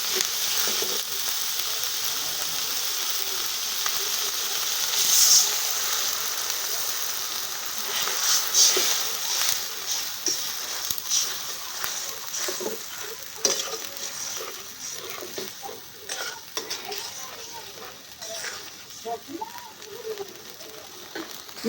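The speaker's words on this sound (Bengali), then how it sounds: "এখন হালকা একটু পানি দিয়ে দেবো।" Oil sizzles loudly in a pan where ground spices and cumin paste are frying for a chicken and chana dal curry, with a splash of water added, spoon scraping and stirring through a steady hiss close by.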